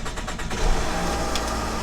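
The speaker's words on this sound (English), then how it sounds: "Car doesn't even want to start." A car engine cranking and struggling to start, a close, loud rhythmic churning of the starter for a couple of seconds that rises into a rough, uneven rumble.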